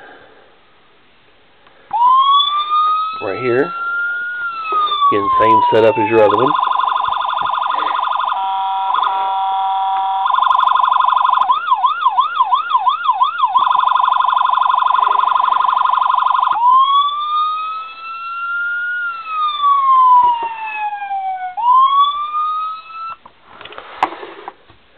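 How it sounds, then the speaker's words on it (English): Loud electronic siren of a Royal Newfoundland Constabulary Ford Police Interceptor Sedan cycling through wail, yelp and other tones for over twenty seconds, with someone speaking briefly before it starts. "And then your siren"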